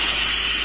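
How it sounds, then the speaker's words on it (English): Loud, steady hiss of steam escaping from an Instant Pot pressure release valve, close up and constant for the whole moment with no talk. "you can also release it like this too, a little bit at a time, and see that steam"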